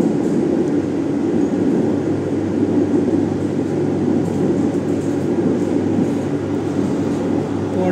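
Kolkata metro train travelling on the Airport to Noapara line through the Dum Dum area, giving a steady, loud rumble and rolling hum from inside the carriage throughout, with no talk.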